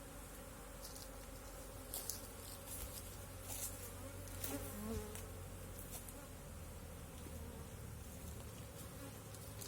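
Honey bees buzz steadily around an open beehive in Montreuil. The dense swarm drone stays close and constant, with faint knocks and rustles of frames being handled.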